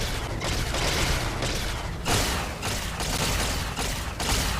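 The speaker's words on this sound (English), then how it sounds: "This is a fucking awesome grenade." Grenade blasts in Fallout: New Vegas, a loud, dense wash of booming explosion noise with several heavy swells across the few seconds, no talking over it.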